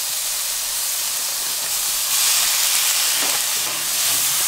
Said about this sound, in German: Und jetzt einfach immer mal so portionsweise in die heiße Pfanne geben.